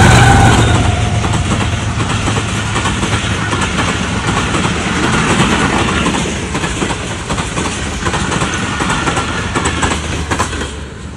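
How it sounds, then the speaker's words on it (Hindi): A train passes close by at a railway crossing, a loud rolling clatter of wheels and rumbling wagons that fills the whole stretch and eases slightly toward the end. "ये देखें, ये है रेलगाड़ी।"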